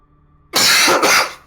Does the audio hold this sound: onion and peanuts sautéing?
no